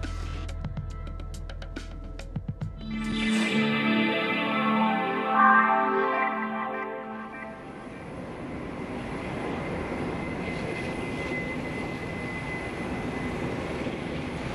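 Aircraft engine noise in flight at about 36,000 feet: after a few opening clicks and a rising whine with tonal bands, a steady broadband cabin roar holds for the rest, fairly loud and continuous with no talk.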